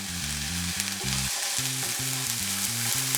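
Onions frying in melted sugar in a pan, a steady close sizzle with occasional stirring scrapes, continuous and without talk, with a repeating low tonal pattern underneath.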